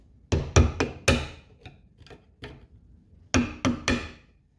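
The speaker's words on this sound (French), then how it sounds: "un petit coup de marteau" A hammer taps sharply during hands-on mechanical assembly after a screwdriver is used: about ten crisp, close knocks in quick clusters with short pauses between them, and no speech.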